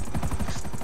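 A helicopter in GTA RP gives a steady, rhythmic rotor chop, close and continuous throughout the brief moment.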